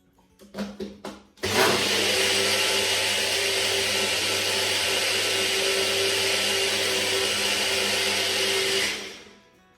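A few short pulses give way to a blender whirring steadily for about eight seconds as it mixes Jamaican Guinness stout punch. The loud, even motor drone then winds down and stops.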